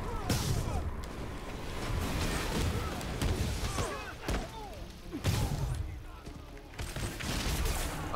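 Marvel's Spider-Man video game combat with web shooting at enemies, a dense, busy mix of repeated thwips, thuds and impacts in bursts, with a few sharp crashes and game voices in the background.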